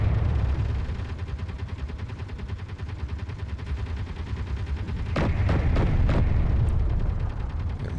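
Assault cannons fire in the Space Engineers game during a battle with orbiting enemies, a dense, continuous rumbling barrage with a cluster of sharper, louder blasts toward the end.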